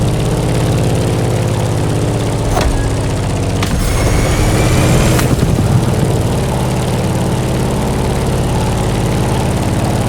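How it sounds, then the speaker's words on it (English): A Grumman F8F Bearcat propeller plane engine in the video game The Crew Motorfest drones steadily and loudly throughout, a constant buzzing hum with a couple of brief clicks partway through. "In the cockpit of a stunning Grumman F8F Bearcat, or simply the Bear."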